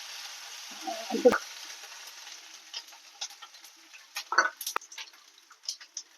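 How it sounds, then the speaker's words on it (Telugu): Ginger garlic paste frying in a pan for Telangana-style pachi pulusu: a steady close sizzle with occasional clinks and stirring scrapes of a utensil against the pan. "ఇప్పుడు మనం కొంచెం అల్లం వెల్లి పేస్ట్ అల్లం వెల్లి పేస్ట్ వేస్తే కూడా టేస్ట్ బాగా అవుతుంది"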